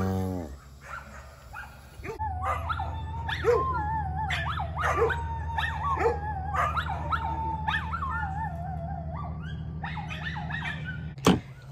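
Several donkeys and dogs howl together in long wavering tones over a steady low drone, with yips and whines mixed in, ending in a sharp loud bark.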